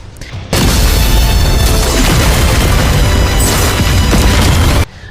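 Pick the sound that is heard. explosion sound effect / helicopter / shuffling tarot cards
explosion sound effect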